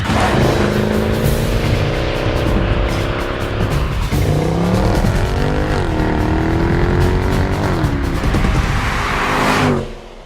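A 2014 Mercedes-Benz C63 AMG Edition 507 wagon accelerates hard with a loud, close engine roar that climbs in pitch through several gear changes, with tyre noise underneath, then cuts off abruptly at the end.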